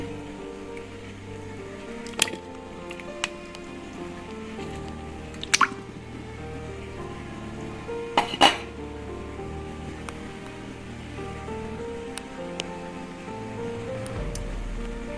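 Hot mutton masala is served into a dish, with wet drips and soft squishy splats of curry landing at intervals over a quiet background.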